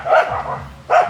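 A dog barks twice near a house, two short, close barks about a second apart with quiet whining between them.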